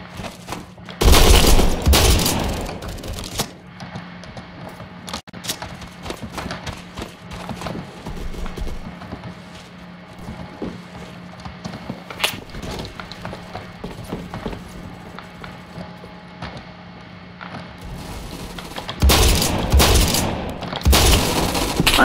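Shotgun gunfire in Phantom Forces, loud bursts of shots near the start and again near the end, with quieter clicks, footsteps and weapon handling in between.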